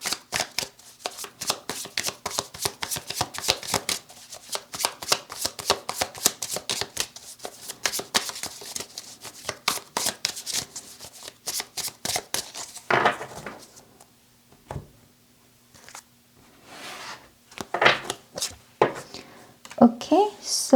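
Tarot cards being shuffled in long runs of rapid, dry riffling flutters, with brief pauses and softer handling sounds as the deck is cut and laid out near the end.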